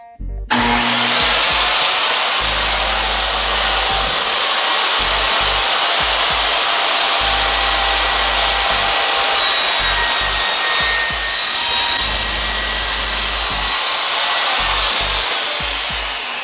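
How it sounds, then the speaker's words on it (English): Table saw ripping a sheet of plywood to width, a loud steady whine that holds for the full cut with a brief shift in pitch partway through and no talking. "got my table saw set up, cut 19 inches wide of this plywood."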